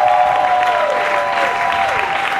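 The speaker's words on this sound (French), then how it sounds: "si c'est toi, acclame Jésus." Congregation applauding during a Sunday church service: dense, loud, continuous clapping from a crowd, with a sustained musical tone underneath.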